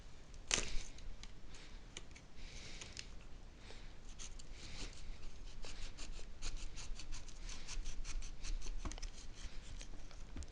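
Close, crisp snipping and rustling, a sharp cut near the start followed by steady scratchy cutting sounds, no talking.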